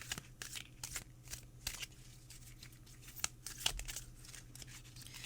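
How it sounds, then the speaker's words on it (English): Quiet, repeated riffling and snapping of Soul Cards oracle decks being shuffled and cut, with soft papery crinkles in an uneven rhythm. "I'm going to shuffle and cut each deck here."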